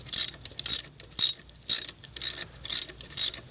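A hand ratchet backs a bolt out on the alternator of a Kia Soul 1.6L, seven or eight short bursts of rapid clicking strokes with brief pauses between, close and clear.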